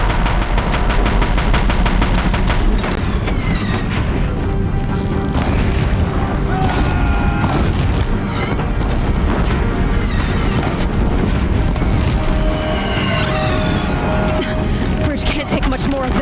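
Deathbringer machines firing heavy weapons at a bridge in the Horizon Zero Dawn video game, with a dense, loud barrage of booming shots and crashes over a continuous rumble and swelling game music.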